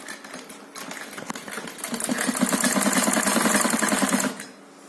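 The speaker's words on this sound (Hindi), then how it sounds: "गले को दूसरी साइड पलटते हुए हम इसके ऊपर सिलाई लगाएंगे।" Sewing machine stitching piping along a blouse neckline, a steady rapid mechanical whir that builds in loudness and runs close and continuous for about four seconds before stopping abruptly.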